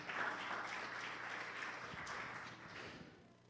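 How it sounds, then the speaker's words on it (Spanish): A church congregation gives a loud round of applause. The clapping is sustained and fairly even, then thins out and fades toward the end. "Dale fuerte ese aplauso"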